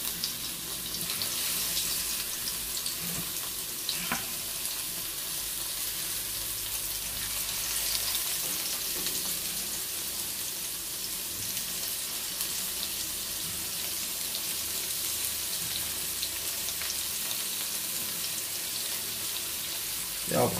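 Tofu pieces frying in a pan until golden on all sides, made for a shiitake braise with frozen tofu, give a steady, continuous hiss and sizzle at moderate volume.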